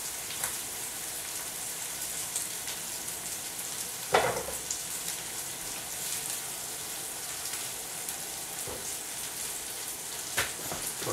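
Pork and shrimp for homemade fajitas fry in a hot pan, giving a steady, even sizzling hiss throughout with a few sharp pops and clicks, no voices present.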